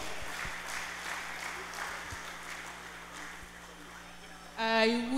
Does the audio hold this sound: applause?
yes